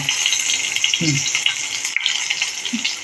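Curry leaves dropped into hot oil for a mung dal varan, with a brief crackling sizzle and rattle over a steady frying hiss. The sound is close and moderately quiet.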